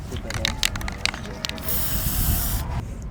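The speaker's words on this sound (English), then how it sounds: "You gotta spray paint it." A few sharp clicks and rattles, then a spray can releases one steady, hissing burst of about a second close by.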